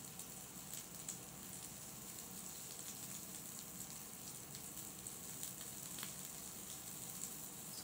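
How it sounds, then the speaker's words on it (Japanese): Wiener sausages fry in a pan with a steady, soft sizzle and fine crackling patter throughout, faint and continuous with no talk. "とりあえずウインナーを焼きます。"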